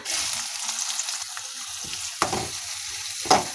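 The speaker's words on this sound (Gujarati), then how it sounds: "અને ડુંગળીને બ્રાઉન થાય ત્યાં સુધી આપણે સાતળી લેવાની છે આ રીતે ધીમા ગેસ ઉપર સતત હલાવતા રહેવાનું છે" Finely chopped onion fries in a pan over low gas. A steady soft sizzle runs throughout, broken by two sharp stirring clicks near the end, and no one speaks.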